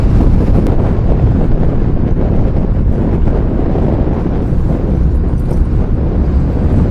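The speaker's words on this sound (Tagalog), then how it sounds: "grabe yung hampas ng hangin kabilaan eh" Heavy wind roars steadily against the microphone from a moving vehicle at about 100 speed near Casiguran, a loud, constant low rumble with no pauses and no voices.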